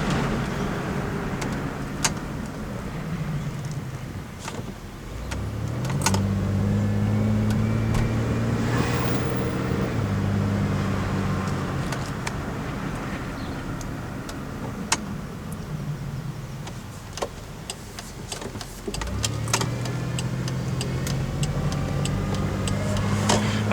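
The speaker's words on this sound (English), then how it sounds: "So maybe it was dry at one time and maybe the pump's just whining." A 1998 Oldsmobile Intrigue's power steering pump whines from inside the car while driving, a steady tonal hum that rises and falls with the engine under road noise, with occasional clicks and knocks.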